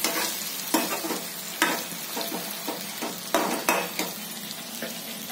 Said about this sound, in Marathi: शिमला मिरची सोडून द्यायची अशी एक.